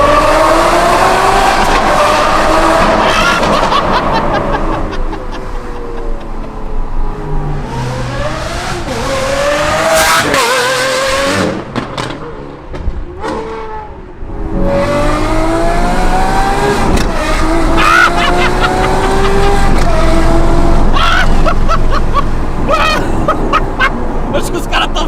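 A Lamborghini SVJ fitted with a Secret Weapon exhaust drives past on a partly wet road, its engine revving and rising in pitch loudly several times, with tire noise and people talking in the background.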